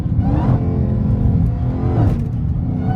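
A Dodge Hellcat Redeye with catless mid pipes downshifts, its loud, close V8 roar blipping up twice over a constant heavy rumble.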